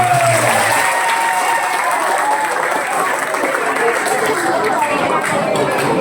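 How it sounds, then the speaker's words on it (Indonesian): Congregation at an Isra Mikraj commemoration gives loud, sustained applause, a thick continuous roar of many clapping hands with crowd murmur and some voices mixed in. "tepuk tangan"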